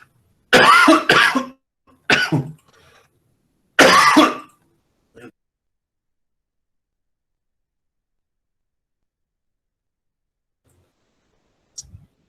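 A few sharp, harsh coughs in quick bursts close to the microphone, followed by quiet and a faint click near the end.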